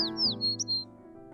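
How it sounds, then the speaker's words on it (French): Birds sing a few quick, bright chirps and sliding whistles, fairly close, over a soft, sustained low musical drone. "De nombreux oiseaux sont venus chanter très joyeusement à l'ombre de l'arbre de moutarde."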